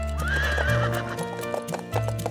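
A horse lets out a loud, wavering whinny up close, followed by rhythmic clip-clopping hooves over a steady musical backing.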